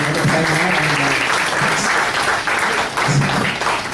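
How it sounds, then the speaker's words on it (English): An audience at a college talk on startups and entrepreneurship applauds two speakers, dense steady clapping throughout, fairly close and loud. "A round of applause, please, for two fantastic speakers"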